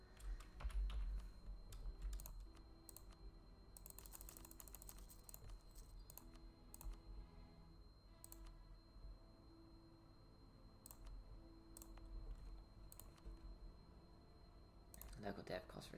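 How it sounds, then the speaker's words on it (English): Mouse buttons and keys clicked at a computer during a strategy game session, a steady scatter of quiet taps and clicks running under a voice talking throughout. "I just started clicking buttons."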